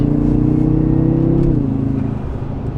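Modified BMW F10 M5 pulling hard in fourth gear at speed, a loud steady engine drone heard from inside the cabin, pitch rising then shifting lower toward the end, no voices.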